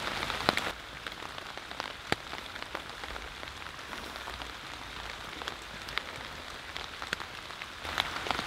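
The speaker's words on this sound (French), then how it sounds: "Nous sommes en plein mois de décembre, dans la forêt, sous la pluie." Rain falls in a forest in December at about two degrees, making a steady hiss of drops on leaves and surfaces. Scattered sharper drips and taps stand out close by, and nobody speaks.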